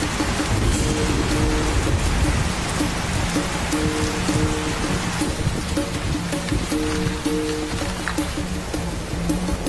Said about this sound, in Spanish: y se suceden los intensos aguaceros